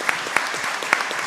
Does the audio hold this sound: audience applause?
yes